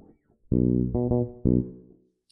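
A fretless bass with its tone knob fully closed plays a few sustained notes, the dark, muffled tone clearly separated by short gaps, close and alone.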